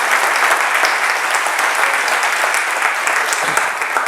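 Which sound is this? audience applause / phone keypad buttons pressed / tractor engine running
audience applause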